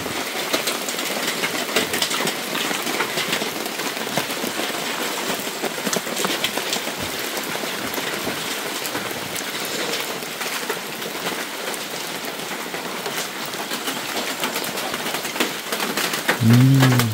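Steady rain pours in the forest, a constant hiss of drops on surfaces that carries on evenly for many seconds, with a brief low tonal sound near the end.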